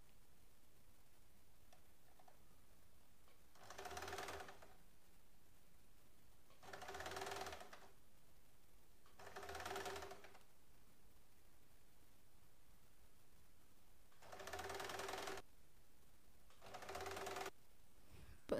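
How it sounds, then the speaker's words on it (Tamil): Sewing machine stitching a frill onto a child's frock, five or six short bursts of rapid mechanical clatter separated by quiet pauses, close and fairly soft, with no voices. "இந்த ஃப்ரீல் தச்சு முடிச்சிட்டோம்."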